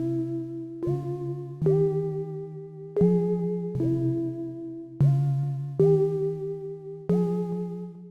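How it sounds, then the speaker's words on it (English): Serum synth preset called Fine: a sustained, warm chord-like synth tone re-struck about seven times at a steady pace, each hit swelling in and holding with slight pitch shifts, close and alone without speech. "This first synth is called Fine and it sounds like this."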